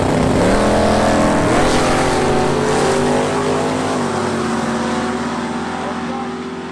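Drag race cars launch together off the line at Eddyville Raceway Park, a loud roaring engine blast that builds quickly and then holds steady, fading slightly as they pull away.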